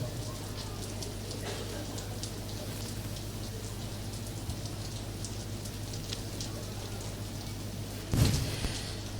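Steady rain falling on an outdoor memorial gathering for martyrs at Karondabeda, a constant soft patter with a low hum beneath and a short thump near the end.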